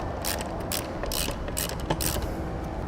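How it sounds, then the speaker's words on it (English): A hex socket on a ratchet tightens flathead bolts while Air Lift LoadLifter 7500 XL helper springs are fitted to a 2017 Chevrolet, producing close bursts of clicking ratchet strokes over a steady background rumble. "Tighten these down with a hex socket."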